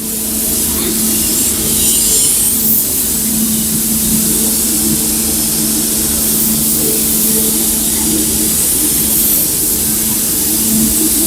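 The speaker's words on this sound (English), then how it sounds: "So now I'm just going to drop coat it" A spray gun applies a light drop coat of metallic automotive paint. The hiss of the spray is loud and continuous for the whole clip, with a low steady hum underneath from the compressor or booth fan.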